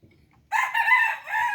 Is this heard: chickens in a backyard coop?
yes